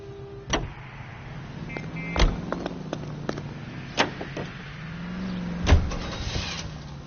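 A car is driven through the streets in L.A. Noire, with a steady low engine hum and tire noise broken by several sharp knocks and thumps as the vehicle moves along.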